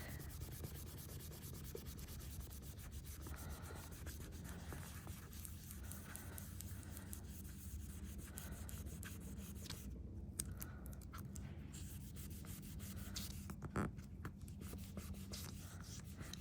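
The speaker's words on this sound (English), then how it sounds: "all you're doing is rubbing off a layer of ink, and your stencils underneath the picture are giving you the pattern" Magazine page being rubbed over stencils to lift a layer of ink, giving a continuous faint scratchy rubbing close by, with a few brief pauses and taps and no speech.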